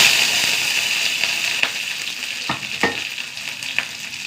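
Mustard seeds, garlic and shallots sizzle in hot oil with a bright, steady hiss, broken by several sharp pops and crackles from the seeds close up.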